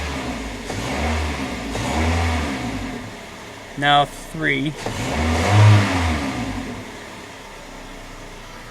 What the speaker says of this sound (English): I'm only revving it up to 2.